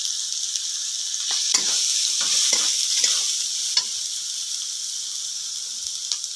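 Fish sizzles and fries in a pan with chilli, turmeric, cumin and coriander powders, a steady bright hiss broken by several scraping stirs, close and without talk.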